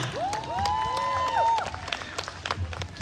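At a Filipino-Canadian heritage festival, an audience claps in scattered, uneven bursts, with a whistle-like gliding tone early on and a few louder claps near the end.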